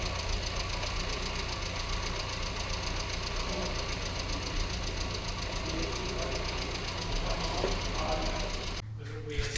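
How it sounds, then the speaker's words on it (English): A carbureted engine idling at a steady, even rumble with a faint knocking undertone, continuous for the whole stretch before a short break at the end. "That's a very, very sensitive carburetor."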